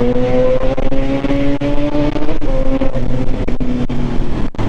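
A Suzuki Katana motorcycle engine drones loudly and steadily with rising tone, close by, accelerating in fifth gear from 2000 rpm.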